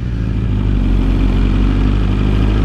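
A motorcycle engine runs loud and close, holding a steady deep rumble with slight revving throughout, alone with no voices.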